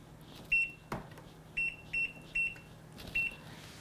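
A kitchen timer sounds several short electronic beeps in quick pairs and singles, fairly faint, with a brief knock among them.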